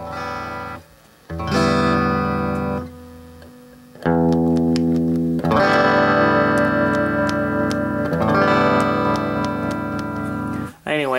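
A homemade stutter tremolo guitar effect pedal: loud electric guitar chords chopped into rapid rhythmic pulses, with abrupt stops and restarts and an underlying electrical hum.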